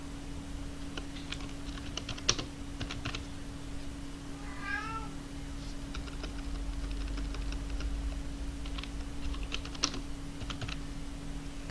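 Typing on a computer keyboard while writing a manual table of contents in Microsoft Word, with scattered clicking keystrokes in short bursts over a steady electrical hum, a cat meowing briefly midway, no talk.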